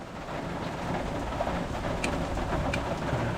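Steady rain pours down outdoors during car repair work on a 2010 VW Jetta TDI MK6, a dense, even hiss with a few sharper drips, continuous and close.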